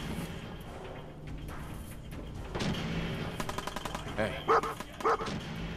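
Dog barking in the Fallout 4 video game, two sharp barks near the end over game gunfire, effects and music.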